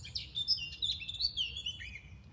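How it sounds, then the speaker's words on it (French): Birds singing from a bush in a park fill the moment with bright, rapid chirping and trilling phrases. The song is close, clear and continuous, with no voices. "Les oiseaux chantent, la nature est là."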